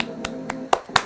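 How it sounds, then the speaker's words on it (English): Four sharp, separate claps, spaced unevenly and close by, against a quiet background hum. "round of applause."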